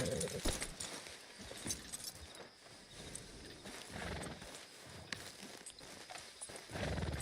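Horse hooves clip-clop at a walk in Red Dead Redemption 2, a run of close, irregular thuds with jingling tack over a soft ambient background.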